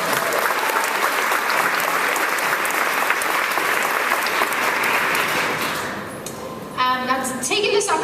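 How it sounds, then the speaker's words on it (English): Dense, steady audience applause fills a speaking event, fading near the end as a speaker's voice begins. "can we give another round of applause for Camille?"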